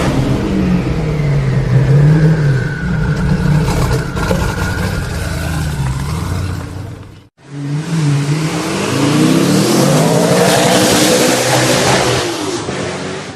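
A Hennessey Venom F5 supercar engine revs loud and close, a sustained roaring pull that cuts out briefly and then surges again with rising pitch sweeps.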